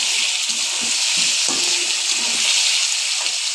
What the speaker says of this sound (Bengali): ভাজার মধ্যে চিকেনটা সেদ্ধ হয়ে যাবে, এত সুন্দর ভাজা হবে